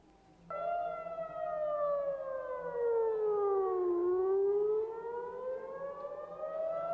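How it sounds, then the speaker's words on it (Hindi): A loud air raid siren wails on its own during an Iranian attack on Israel, its pitch sliding slowly down and then climbing back up in a long, continuous tone. "आप सुन सकते हैं किस तरीके से यहां पर सायरन की आवाज जो है लगातार सुनाई दे रही है।"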